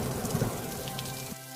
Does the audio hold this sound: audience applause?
no